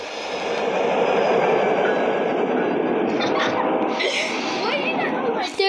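A train rumbles past close by, a loud continuous roar of rail noise with brief higher screeches near the end, while people talk over it.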